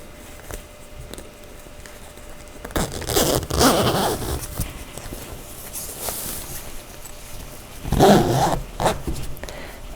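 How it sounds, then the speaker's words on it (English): Two bursts of fabric zipping on a baby bassinet, one around the middle and a shorter one near the end, close up with light rustling between. "And zipping it the whole length."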